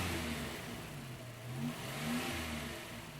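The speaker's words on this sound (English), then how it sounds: "Press the accelerator pedal quickly 3 or 4 times to clear out the residue." A Toyota engine undergoing induction system cleaning revs in a few quick throttle blips, its tone rising and falling over a steady rumble with a rushing hiss, fairly close with no talking.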